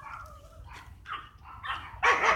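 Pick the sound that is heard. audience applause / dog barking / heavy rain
dog barking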